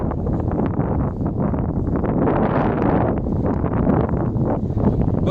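Strong wind buffets the microphone in a constant loud roar with gusty rumbling, filling the whole stretch with no voices.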